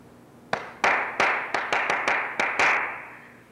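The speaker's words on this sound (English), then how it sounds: "The clapping goes like this." Rhythmic hand clapping demonstrated by one person: about eight sharp, close claps in an uneven pattern, loud and alone with no talking.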